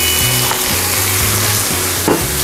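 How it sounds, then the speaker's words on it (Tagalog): Chicken liver sizzles and fries steadily in a pan for a creamy liver dish, a loud close crackle with a few soft scrapes of stirring and a sharp clink near the end. "So, add po natin yung ating chicken liver."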